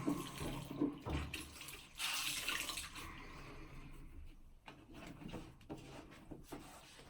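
Tap water runs into a sink as someone rinses their face at a bathroom mirror, a steady splashing flow with brief louder gushes and handling noises, close by and alone.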